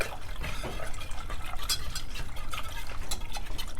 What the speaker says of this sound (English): this is going to come to a boil, and you want to just stir it often